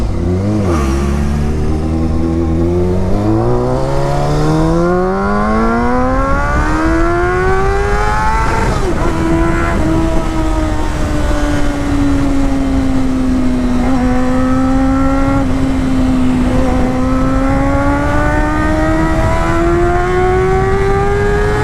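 A 1999 Honda CBR 600 F4 sport bike revs hard through rising engine sweeps, climbing in pitch through several gears, then settles into a steady high drone at speed, loud and close with no voices.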